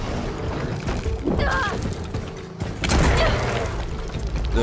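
Explosives detonating in the video game Horizon Forbidden West, two loud booming blasts with rumbling tails about a second and a half apart, backed by steady game ambience and effects.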